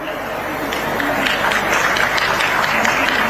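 Loud, sustained applause from an audience filling an auditorium at a large public function at a medical college, steady clapping throughout with crowd noise mixed in and a voice faintly over it.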